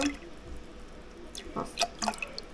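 Milk being poured into a bowl for a blueberry bun dough, a faint liquid trickle with scattered drips and small clinks in a quiet kitchen.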